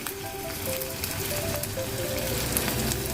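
Sliced onions frying in hot oil with a pinch of salt in a home kitchen, a steady close crackling sizzle with faint hissing pops throughout.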